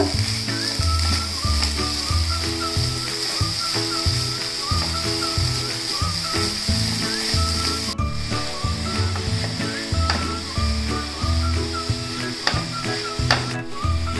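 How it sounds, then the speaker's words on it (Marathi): Jaggery and cardamom powder for ukdiche modak filling are stirred in a pan, a steady sizzle with repeated scraping strokes running continuously and close throughout, with no talking. "गुळ बारीक करून घेतलाय ते टाकून घेते वेलची पावडर आता हे सगळं मिक्स करून घेऊया गुळ विरगळेपर्यंत"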